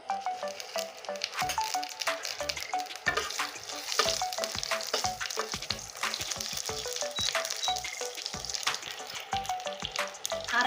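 Cumin seeds sputter and sizzle in hot oil for a rui fish and potato curry, a dense, steady crackle with sharp pops and occasional stirring clinks throughout, close and fairly loud, with no voices.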